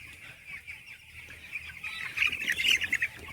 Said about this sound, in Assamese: এয়া 18 দিনৰ ব্ৰইলাৰ পোৱালি।